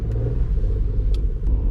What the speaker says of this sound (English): These little 3-cylinder engines are so funny because when you rev them, they sound like a V6